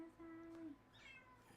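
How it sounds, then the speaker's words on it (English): A house cat gives a short meow, faint and in the background, with a second brief, higher cry after it. "please pardon the cat that you may hear in the background"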